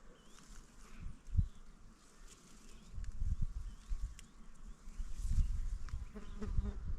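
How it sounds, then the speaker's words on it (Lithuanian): Insects buzz faintly over an open farm field in spring, a soft steady hum sitting above a low rumble of wind and outdoor background, with no voices. "Turbūt girdite, kaip dūzgia vabzdžiai."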